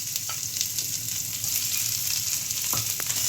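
Onion frying in ghee with cumin and mustard seeds, giving a steady, close, loud sizzle with a few faint crackles and stirring knocks, no voices.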